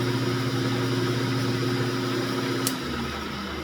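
A metal lathe set up for knurling hums steadily with a close, even motor drone and faint mechanical whine. Near the end a brief tick is heard and the tone drops slightly as the machine settles.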